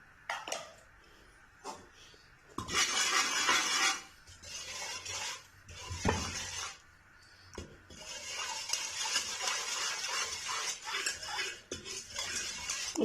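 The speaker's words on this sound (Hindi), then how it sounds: "अच्छी तरह मिक्स करेंगे इस ऑयल में।" A spoon scrapes and clinks around a pan as red chilli powder and turmeric are stirred into two tablespoons of cooking oil, in uneven bursts of gritty scraping separated by short pauses.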